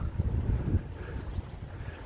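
Strong wind, clocked around 27 km per hour, buffets the microphone with a continuous low roaring rumble and gusty surges, with no voices.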